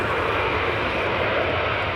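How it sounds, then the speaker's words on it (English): An Airbus H125 helicopter passes overhead at an airport spotting location on a cold day, a loud continuous engine and rotor roar holding steady throughout without voices. "H125 helicopter."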